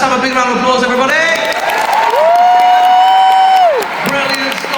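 A large arena crowd at a musicals show roars with applause and cheering under a loud voice, the clapping and whoops forming a dense continuous wash of sound.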